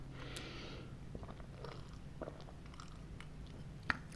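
Potato chips being eaten close to the ear, soft crunching and chewing in a quiet room with a low steady hum beneath, plus one sharper crunch near the end.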